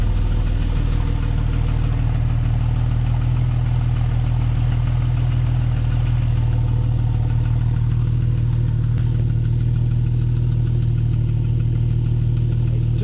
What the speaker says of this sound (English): Now there is a light ticking from this engine.